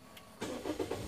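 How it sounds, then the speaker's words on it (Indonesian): An automatic car's engine starts with a brief cranking burst that settles into a low idle, heard close and fairly quiet with no talking. "Pertama-tama kita hidupkan dulu mesinnya."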